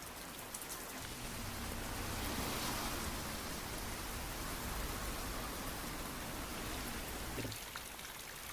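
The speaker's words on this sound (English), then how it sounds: "Oh, it's raining again." Steady anime rainfall hisses softly and evenly, a dense, faint wash of drops on surfaces that continues without a break for several seconds.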